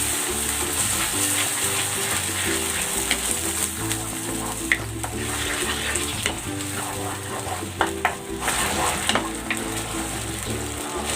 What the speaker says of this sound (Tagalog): Mas masarap pag nagigisa yung tomato sauce.